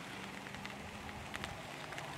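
Light rain beginning to fall at a campsite in the woods during a solo hammock camping trip, a soft steady patter with a few sharper drops, faint and continuous with no voices.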